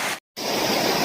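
A small waterfall at a campsite pours in a steady, loud wash of rushing water, briefly cut to silence for a moment before the continuous roar resumes.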